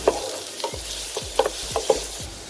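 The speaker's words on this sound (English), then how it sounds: "Saute it well." Finely chopped onions sauté in a pan for Mexican rice, sizzling steadily while a spatula stirs them in regular, close scraping strokes.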